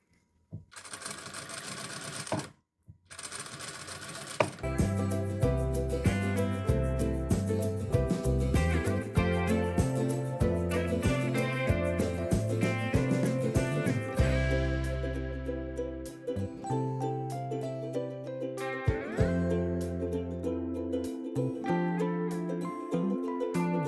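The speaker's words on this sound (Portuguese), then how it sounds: "Eu alinho aqui, ó, minha margem no meu pezinho e vou costurando." A domestic sewing machine runs in steady bursts as it stitches a seam along the edge of a sleeveless top, starting with a short reverse stitch. The motor whirs and the needle clatters rhythmically, close and loud, with brief pauses between runs.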